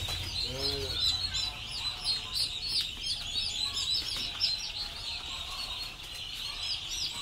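Turkeys and young chicks on a poultry farm give a constant chorus of high chirps and peeping calls, with a few louder clucks early on.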